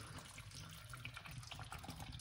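Organic coconut water poured into pineapple beetroot juice, a steady soft liquid stream gushing continuously and faintly throughout, with no talk.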